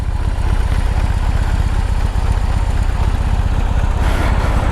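A 2020 BMW R18 shaft-driven motorcycle idles with a steady, close low exhaust rumble, pulsing evenly throughout without talk.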